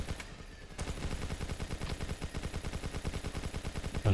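Rapid automatic gunfire from a War of Toys deathmatch, a fast steady stream of close, loud shots with a brief quiet start before the burst kicks in.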